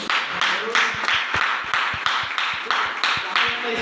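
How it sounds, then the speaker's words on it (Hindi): An audience at a business plan presentation claps in unison to honour the presenter, sharp collective claps landing in a steady even rhythm about every half second, fairly close and loud. "तो सर के सम्मान में तालियां होनी चाहिए।"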